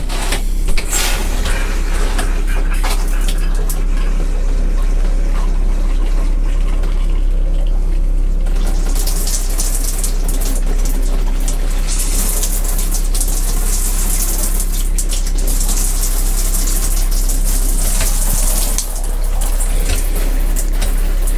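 An RV shower runs pink antifreeze through the lines while a Class C motorhome is winterized, a steady loud rushing hiss of spraying liquid with a faint pump hum beneath, continuous with no talk.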